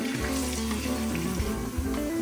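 Garlic frying in oil while being stirred, a steady close sizzle running throughout with a few stirring scrapes and a low hum underneath.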